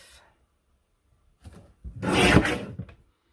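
Cardstock is sliced with a paper trimmer, giving a faint brief rasp and then a louder scraping cut of about a second. The sounds are close and come with no talk.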